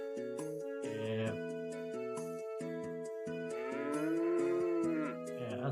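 Cows moo in a Breath of Fire III sound effect, several drawn-out tonal lows with layered pitches, repeating over steady game music.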